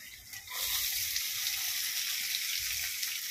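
Chopped onion added to hot oil with cumin in a pan for a Konkan jackfruit vegetable dish, a steady bright sizzle swelling after a soft clatter and holding evenly, fairly quiet and close with no talking.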